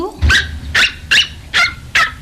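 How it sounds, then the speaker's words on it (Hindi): A dog gives five sharp, evenly spaced barks close up and loud, each a short yelping burst with brief quiet gaps between. "भौंक भी बिल्कुल जाहिल कुत्तों की तरह है।"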